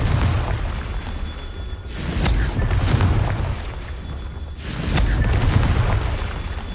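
Two heavy booming blasts from the Confringo fire spell in Hogwarts Legacy, each a sudden loud burst that rumbles and fades, over a steady low game background.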